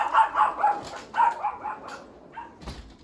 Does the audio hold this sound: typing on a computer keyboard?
no